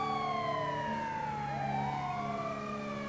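Ambulance siren in the LSPDFR police video game, a loud, steady wailing tone with sweeping pitch glides continuing throughout over a low engine rumble, with no talk.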